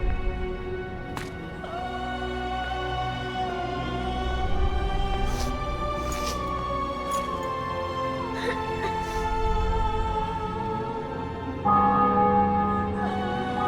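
Church bells ring in a captured city and fortress in The Witcher 2 PC video game, several resonant strikes chiming over a low sustained rumble of ambience at moderate distance, with no talking over them.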